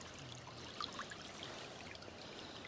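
Water running off through a cut in an earthen pond dam trickles faintly and steadily outdoors, a soft, distant babble with a few small splashes and no talking.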